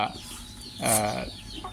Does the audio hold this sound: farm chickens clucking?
yes